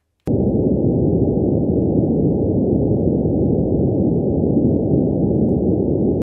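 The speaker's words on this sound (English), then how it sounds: "So the first thing I did was I took the spectrum of the sun, and let me play this one for you." Sonified spectrum of the sun, a steady low humming drone with a noisy, buzzing texture that holds unchanged at constant loudness for about six seconds, with no other sounds.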